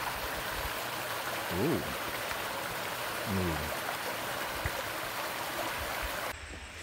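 A forest stream flows below a path among ferns, a steady broadband rush of water with a few brief spoken words over it near the start and middle.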